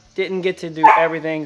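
A dog barks and yips close by in a shed being converted into a house, with short repeated bursts under a person talking.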